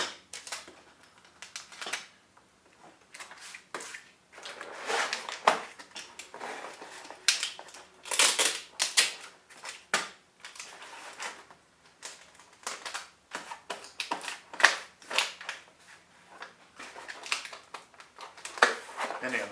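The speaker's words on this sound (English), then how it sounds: "Tear off a little bit of tape just to hold it together." Adhesive tape is torn off in short crackling bursts and strips while a shipping box is held together, the ripping sounds close and repeated throughout.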